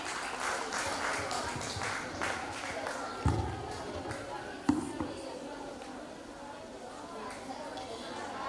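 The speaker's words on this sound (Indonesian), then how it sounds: "kasih tepuk tangan buat Maimunatul Nafisah" Audience clapping at a school pageant contest, steady and fairly close, with a couple of sharper claps or knocks midway and chatter underneath.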